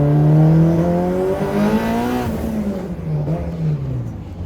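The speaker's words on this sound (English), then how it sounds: "gotta give it at least a little bit of throttle" A car with a stock transmission revs under light throttle, its engine note climbing and then easing as it pulls, loud and close throughout with no talk over it.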